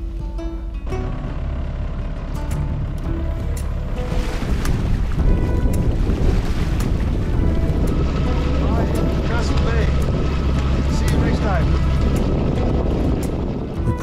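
A sailboat moves under sail against the wind, with a constant loud roar of wind and water and a low rumble filling the whole stretch, faint clicks and creaks scattered on top.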